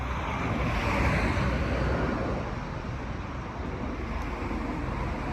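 Traffic noise from cars driving past at night in Rome, a steady broadband rumble and hiss that holds even throughout, with no clear single pass-by standing out and no talking.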